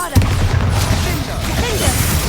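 A Bombarda spell detonating in Hogwarts Legacy, a loud close boom with a rumbling low-end burst and crackling tail that fills the whole moment.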